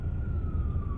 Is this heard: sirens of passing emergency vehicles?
yes